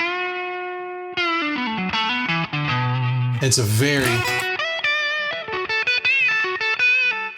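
An electric guitar plays a bluesy lead through a Tube Screamer overdrive pedal, with mid-heavy, lightly driven bent notes and quick phrases up front, and someone speaks briefly over the playing.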